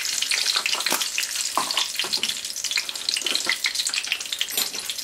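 Whole spices such as red chili and cloves sizzle and crackle in hot oil for a daal tempering, a close, busy frying hiss with sharp pops throughout and no talk.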